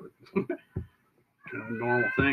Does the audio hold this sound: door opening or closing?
no